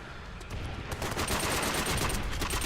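Rapid gunfire from Call of Duty: World at War multiplayer, dense overlapping bursts of automatic fire that build from about a second in and continue steadily, loud and close, with no talking.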